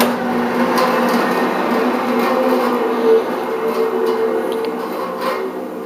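A Craftsman 14-inch bandsaw runs idle in a workshop with a steady, fairly quiet motor and blade whir, accompanied by a few faint knocks and rattles throughout.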